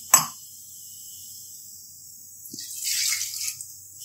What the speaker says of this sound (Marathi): ज्या वाटीने आपण पीठ घेतलं असेल त्याच मापाच्या वाटीने पाणी घ्यायचं